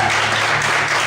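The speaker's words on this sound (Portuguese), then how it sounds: "vamos aplaudir ao Senhor Jesus." A church congregation applauds together during a worship service, a steady wash of many hands clapping at once, sustained and fairly loud throughout with no talk over it.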